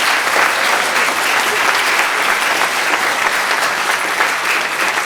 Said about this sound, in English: let's give another big applause for these guys